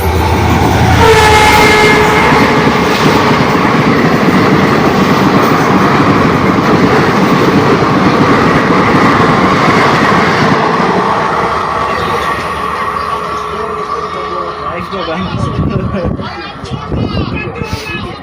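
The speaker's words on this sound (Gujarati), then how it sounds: "મિત્રો આ ટ્રેનમાં જવાનું હતું, ટ્રેન જતી રહી" An intercity train rolls past close by at Dholka, a loud, continuous rumble and rail clatter that lasts throughout and fades slightly near the end.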